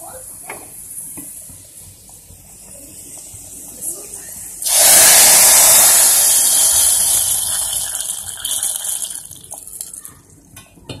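Hot onion tempering (baghar) poured into a pot of dal erupts in a loud, sudden burst of sizzling that stays strong for several seconds, then slowly fades, with soft kitchen clatter before and after.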